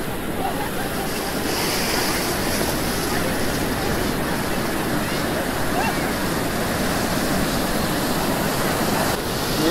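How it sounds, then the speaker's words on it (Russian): Stormy sea surf rolls onto a resort beach in a steady, loud wash of breaking waves, with wind buffeting the microphone throughout. "Вот наш пляж, немножко штормит, но вода теплая-теплая."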